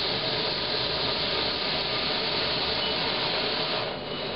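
Steady, loud roar of an MSR PocketRocket canister backpacking stove burning, a constant hissing rush of gas flame heard up close, unchanging throughout with no voices.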